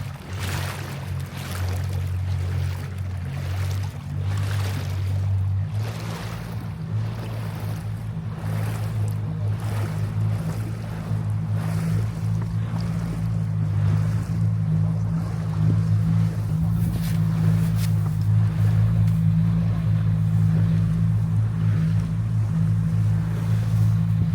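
A motorboat's engine drones steadily and loudly across the whole stretch as it runs through Patagonia Bay in Antarctica, its low hum mixed with wind and water noise and no voices.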